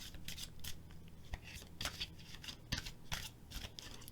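Quiet riffling and soft slaps of tarot cards being shuffled, in repeated short bursts with no talking.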